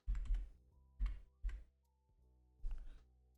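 Typing on a computer keyboard, with a few clustered key taps in short bursts and pauses between them, close and crisp, and no talking.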